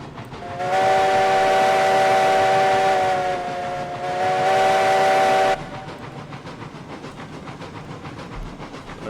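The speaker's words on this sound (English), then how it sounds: "Give it a proper freight train whistle." A freight train's steam whistle in the RailRoads Online game sounds two long, loud harmonic blasts, the second following a brief dip, over a steady locomotive rumble and chuffing that carries on after the whistle stops.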